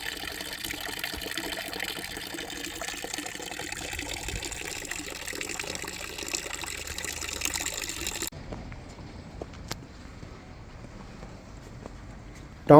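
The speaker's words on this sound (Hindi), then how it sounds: "ये शेर का मुंह बना हुआ है जिसके अंदर से पानी की ये धार निकल रही है।" Water streams steadily from a lion-head spout on a town fountain in the old town of Blankenburg, Germany, a continuous splashing rush that drops in level partway through without stopping.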